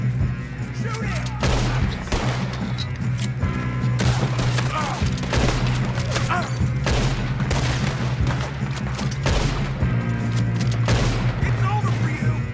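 Rapid gunfire rings out from a Red Dead Redemption 2 shootout, with repeated loud shots and bursts across a steady low game ambience while voices shout in between.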